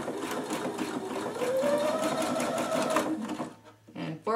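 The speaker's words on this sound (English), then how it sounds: "I'm gonna reinforce this with a zigzag stitch back and forth" A sewing machine runs a zigzag stitch back and forth on fabric, a steady close whirring hum for about three seconds before stopping, followed by a few short mechanical clicks.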